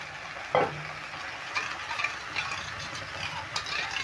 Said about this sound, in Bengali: এই জলটা আমি দিয়ে দিচ্ছি এই মশলাতে